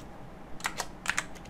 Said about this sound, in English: this is D, we press on the keyboard